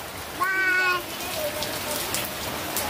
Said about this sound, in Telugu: వర్షం బాగా వస్తుంది మరి.